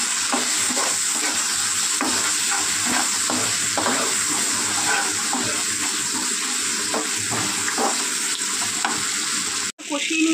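Spices sizzling in a pan with chilli powder, cumin-coriander powder and a little water, steady frying hiss with rhythmic stirring scrapes throughout, close and loud, a brief dropout near the end.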